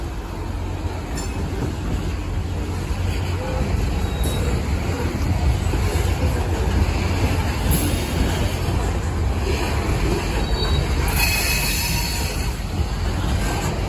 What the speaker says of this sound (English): He's gonna line the switch and he's gonna back up onto the rest of his train.